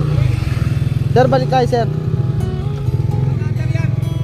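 Motorcycle engine running close by, a steady pulsing idle throb throughout with a voice speaking briefly over it.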